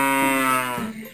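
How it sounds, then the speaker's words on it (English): A single cow moos once, a close, loud, drawn-out bellow that sinks in pitch and fades at the end. "who's that mooing in the shed? That's my cow."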